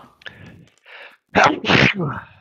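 A single sharp sneeze bursts out after a few soft breathy sounds, followed by a brief voiced trail; close and fairly loud.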